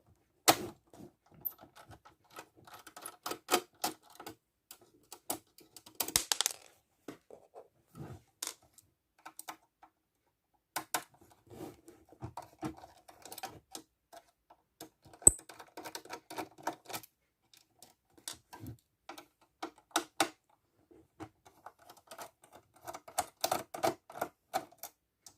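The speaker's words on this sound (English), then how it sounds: "So take off those 4 screws there" Small screws being backed out of an Xbox One S console board with a screwdriver, a quiet run of sparse clicks, ticks and metallic taps close up, with no talking.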